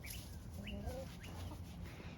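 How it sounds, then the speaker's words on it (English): Three backyard chickens cluck softly in a few short rising calls over a constant low outdoor hum, faint and somewhat distant, with no talk. "here are the 3 chickens"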